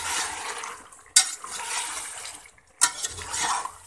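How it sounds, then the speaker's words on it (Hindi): Chicken and potatoes fry in masala over a normal-to-high flame with a steady sizzle, broken by two sharp clanks of a utensil against the pan as the mixture is stirred. "नॉर्मल टू हाई फ्लेम के ऊपर इसकी हम भुनाई कर लेंगे।"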